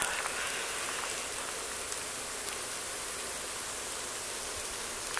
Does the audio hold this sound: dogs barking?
no